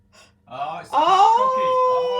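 A Sony Aibo ERS-1000 robot dog makes a synthetic, electronic mewing sound that rises and holds in a drawn-out whiny tone, close by, after a few short chirpy noises.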